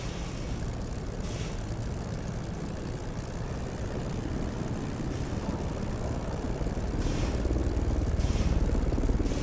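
A propeller aircraft engine from a flight combat game, a steady droning roar held close and loud throughout, swelling slightly toward the end with no talk over it.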